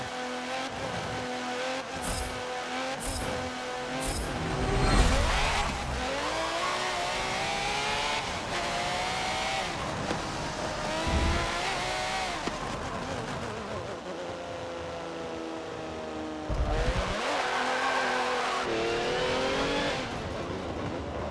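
Race car in Forza Motorsport 7, a 750-horsepower machine, revving hard through repeated gear changes with engine pitch rising and falling and bursts of tire squeal on corners, loud and continuous.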